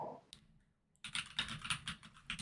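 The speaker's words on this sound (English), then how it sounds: "What are you typing?" Rapid clicky keystrokes on a computer keyboard patter in uneven bursts after a short pause, close and fairly quiet, with no talk over them.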